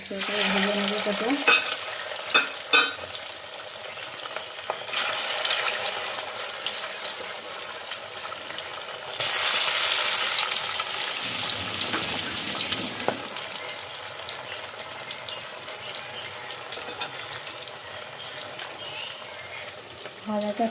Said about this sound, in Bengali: ভালোই ভাজা হয়ে গেছে